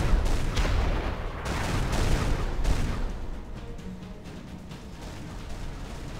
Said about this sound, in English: Pretty sure there's artillery and shit here.